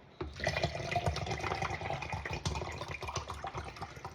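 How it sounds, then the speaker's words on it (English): Water pours from a jug into a protein shaker bottle, a steady splashing, gurgling fill lasting a few seconds, close and fairly quiet with no talking. "so pouring the water first."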